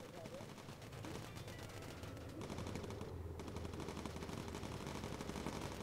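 Continuous rapid machine-gun fire from a bomber's turret guns in the aerial combat game Bomber Crew, loud and dense rattling bursts that run without pause, with a voice speaking beneath the gunfire.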